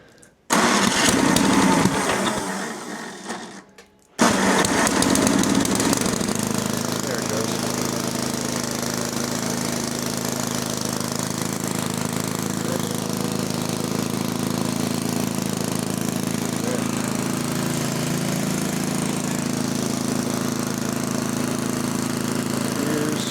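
Small lawn mower engine running steadily at close range after a brief rough start, a continuous loud drone throughout with a voice speaking over it early on.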